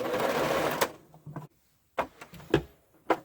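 A sewing machine runs a short back stitch, with a brief burst of rapid stitching followed by several separate mechanical clunks and taps separated by short silences.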